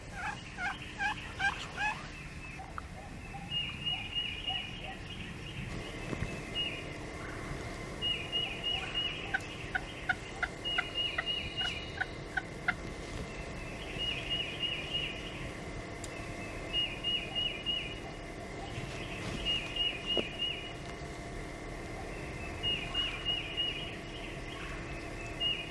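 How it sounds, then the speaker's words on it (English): A wild turkey gobbler in Ontario sounds off again and again from a distance, rattling gobbles spread across a quiet outdoor background with no one speaking. "he gobbled right back"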